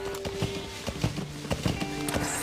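Horse hooves from the Metal Gear Solid V: The Phantom Pain trailer: a handful of irregular clip-clop hoofbeats, fairly close, over a steady musical drone with tonal lines.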